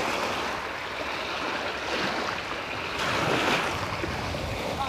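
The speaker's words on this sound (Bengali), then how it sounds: "তো ঢেউগুলো সত্যি মানে প্রচণ্ড রকমের আছড়ে পড়ছে এদিকে।" Heavy sea waves crash and roll continuously along the Sundarban shore, a loud, dense surf roar with wind blowing across the microphone and no voices.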